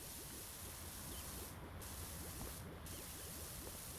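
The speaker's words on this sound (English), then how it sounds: "how much water you hear when you spray" A pressure washer sprays water in PowerWash Simulator, a loud, steady, broad hiss that runs unbroken throughout with faint clicks beneath it and no talk.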